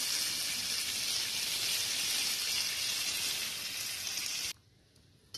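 Raisins fry in a pan with a steady, bright sizzle that holds evenly for several seconds, then cuts off abruptly, leaving near silence with a few faint clicks.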